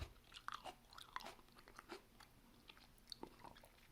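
Close, quiet bites and crunchy chewing of a fresh homegrown tomato, a few crisp snaps scattered over several seconds against near silence.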